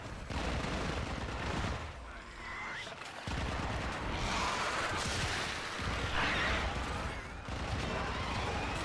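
Rapid, sustained gunfire from the video game Warframe, dense bursts of shots in long stretches broken by brief pauses, loud and close, with faint voice-like sounds mixed in.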